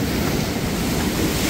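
Rough surf breaks on a coastal shore beside houses, a broad continuous roar with heavy wind buffeting the microphone, loud and unbroken throughout.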